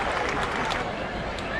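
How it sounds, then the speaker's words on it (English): Crowd applause at the Champaign County Fair in Urbana, Ohio, a short dense burst of clapping from an outdoor audience, steady and moderately loud throughout. "Round of applause"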